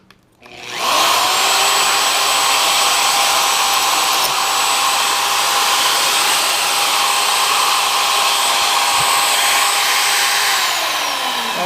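A carbide-tipped bit drills out a broken bolt with a steady, loud, continuous whine and grinding hum that holds evenly for several seconds before easing off, with no voices.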